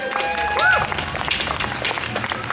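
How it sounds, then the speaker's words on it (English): Festival audience at the Umoja Festival in Johnson City, Tennessee claps and cheers for the MC, a short burst of crowd applause with a whoop rising above it. "let's give a big round of applause for our original MC"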